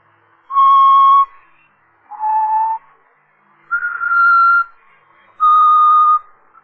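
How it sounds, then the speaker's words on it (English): A man whistles a tune in four clear sustained notes, each held roughly half a second to a second with short pauses between, alone and close with nothing else heard. "He's always whistling it."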